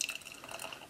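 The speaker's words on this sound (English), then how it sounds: "And let's go to a pour." Dark Horse Perkulator coffee doppelbock beer pours from a can into a glass in a brief, faint liquid splash and trickle lasting about a second, with no voices.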